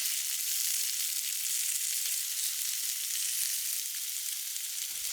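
Vegetables and snap peas sizzling in a frying pan while bento dishes are cooked, a steady, even hiss of frying heard close and alone, with a slight change near the end.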